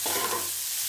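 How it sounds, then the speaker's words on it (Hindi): Raw papaya bhujia sizzles and hisses steadily in a pan while it is stirred, in one brief, close burst of frying noise with no talk. "इसको हम इसी तरह से चलाते रहेंगे"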